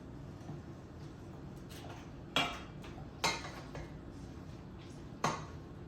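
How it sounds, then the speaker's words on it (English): Quiet sizzle of meat cooking on low heat for a homemade dog food topper, with a few sharp utensil clinks against the pan as it is stirred, spaced irregularly. "So while the meat is cooking, I'm just stirring this up."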